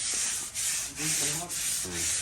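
Tiles being scrubbed with a grout stain remover, a loud close rhythmic rasping rub in long back-and-forth strokes with brief dips between passes, while someone talks faintly underneath.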